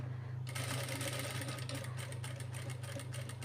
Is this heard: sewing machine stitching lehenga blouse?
yes